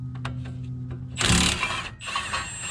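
Impact wrench on the caliper bracket bolts of a Ford F-150 during a roadside brake job, one short loud rattling burst followed by a second briefer burst.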